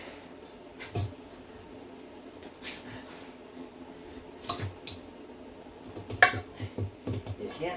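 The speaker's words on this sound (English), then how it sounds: "we'll just deploy a couple of these tire spoons and we'll get her in there" Steel tire spoons clink and scrape while prying a tire bead onto a Jeep rim, a few sharp metallic knocks and scrapes at scattered moments over low background noise, denser clattering near the end, with a brief spoken remark.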